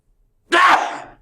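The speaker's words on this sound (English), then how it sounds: "I've got a sneeze, sorry." A single sharp, forceful sneeze bursts out after a brief silence, close and loud, trailing off quickly.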